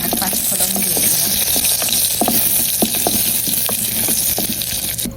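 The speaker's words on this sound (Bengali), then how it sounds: "তেল গরম হয়ে গেছে, এখন আমি এই যে ফোড়ঙে তেজপাতা, শুকনা মরিচ আর 5 ফোড়ন দিয়ে দিলাম।" Bay leaves, dried chillies and five-spice crackle and sizzle steadily in hot oil in a pan, a dense continuous frying hiss with scattered sharp pops and spits throughout, close and fairly loud.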